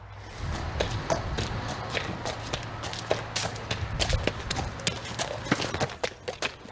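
A horse walking after being shod, its hooves clip-clopping in a steady, even four-beat rhythm at close range, with no talk over the footfalls.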